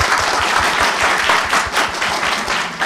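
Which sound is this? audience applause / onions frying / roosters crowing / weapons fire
audience applause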